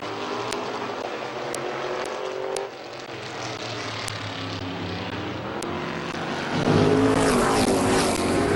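Race cars roar around Midvale Speedway in a steady, loud engine drone that swells as a pack passes close, mixed with sharp brief clicks and a wide, distant track ambience.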